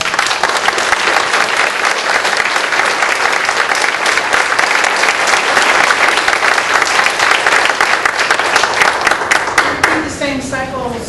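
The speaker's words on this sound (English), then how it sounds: "Have a round of applause for everyone that" A crowd gives a long, loud round of applause for candidates after their closing remarks, steady dense clapping throughout with a voice starting to speak over it near the end.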